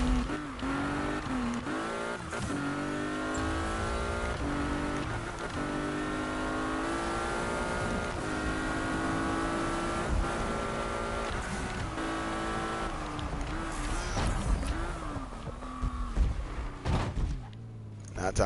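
Car engine droning and revving steadily in a PS4 night-time driving game, with tires sliding on the road, a continuous loud hum with shifting pitch and a few brief knocks near the end.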